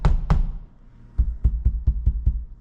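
Repeated hits on the body of a parked 2022 Tesla Model Y with Sentry Mode armed: two thumps, a pause, then six evenly spaced dull knocks, close and fairly loud.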